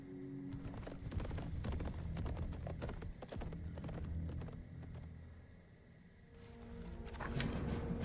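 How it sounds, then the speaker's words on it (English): Arthas's horse in the Warcraft 3 Reforged video game, with hooves clip-clopping in a rapid, continuous patter, close and fairly loud, alongside other game sound effects. "why not cut down Arthas's horse?"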